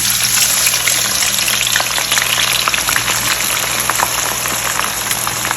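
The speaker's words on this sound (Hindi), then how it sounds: "ऑयल हमारा जो है वो गरम हो गया। अब हम इसमें डाल देंगे अपने प्याज।" Onions sizzling and crackling in hot oil for Hyderabadi biryani, a steady close frying hiss with sharp pops scattered throughout and a low hum underneath.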